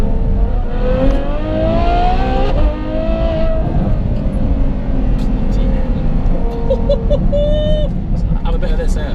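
A Novitec N Largo Ferrari F12 V12 engine drones and revs steadily for several seconds. The pitch rises and settles, then climbs again near the end, with someone talking over part of it.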